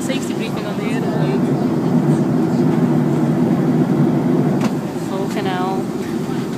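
Airplane cabin on a flight from Paphos to Manchester during turbulence: a steady, loud low engine and air roar fills the cabin throughout, with a person talking over it.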